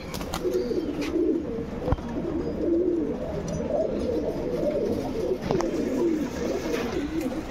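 Several pigeons of an old line breed, kept for sale in Bangalore, coo steadily in low, rolling, overlapping calls that last the whole stretch. The birds sound close, with faint background noise and no talk.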